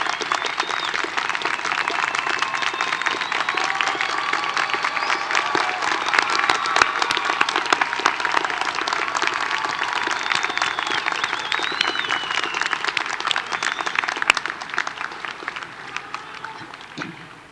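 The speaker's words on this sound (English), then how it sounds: "ask that you now stand for a round of applause from CSUN" A large commencement crowd at a CSUN business college graduation gives a long, sustained round of applause, dense clapping filling the hall at steady volume for many seconds.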